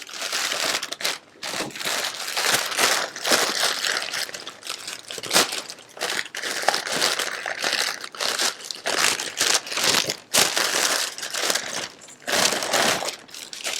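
Tissue wrapping paper around a Tory Burch reversible belt crinkles and rustles loudly up close as it is unwrapped, in continuous crumpling bursts with brief pauses.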